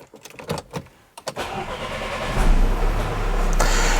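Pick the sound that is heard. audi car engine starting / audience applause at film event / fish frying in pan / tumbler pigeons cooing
audi car engine starting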